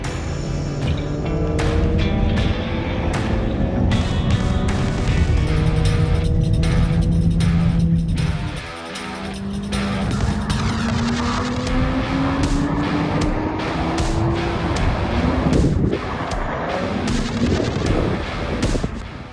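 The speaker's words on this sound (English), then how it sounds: "I'm actually going to go out now, do a few drives, and see what it sounds like from inside" From inside a car fitted with a Powerflow exhaust, the engine drones and rises through the gears, with a brief dip partway before it builds again. Short popping crackles and cabin rattles sound over it, and nobody talks.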